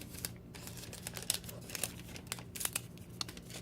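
Wrapping paper crinkles and rustles close up as it is folded over a book's corner, in quiet irregular bursts of crackling.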